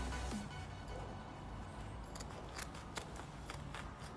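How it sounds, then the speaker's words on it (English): Scissors cut through fabric along the leg seam of a pair of pants, making soft, faint snips in a loose rhythm of crisp clicks, heard close and alone. "you're going to start at the bottom and cut along the seam"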